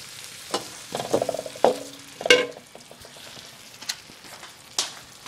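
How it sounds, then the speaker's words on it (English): Cumin seeds, onions and tomatoes cook in a pot while a utensil scrapes and clatters in short, irregular bursts over a faint sizzle, with a few sharper knocks near the middle. "right now on the pot, we have cumin seeds, the onions, tomatoes"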